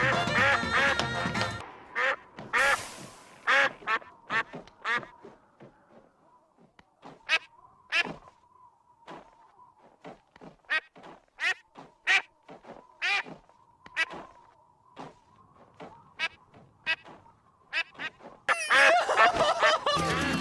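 Ducks quack in a long run of close, sharp calls spaced regularly over about twenty seconds, with denser noisy bursts at the start and end.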